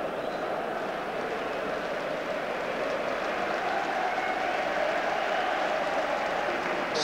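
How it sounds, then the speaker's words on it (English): A stadium crowd at a Sunderland versus Leeds United football match applauds steadily for an injured Leeds player, a dense, even wash of clapping that holds at a constant loud level throughout. "Sporting applause for Olivier Dacour."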